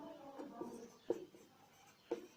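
Faint pen strokes on paper while working a class 10 maths solution, with soft scratchy scribbling and three sharper taps as marks are made.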